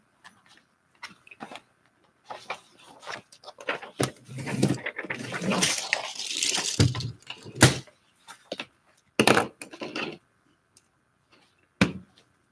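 A door is opened, pushed and handled indoors, with scattered clicks, knocks and thumps around a longer stretch of rubbing and shuffling, close and fairly quiet.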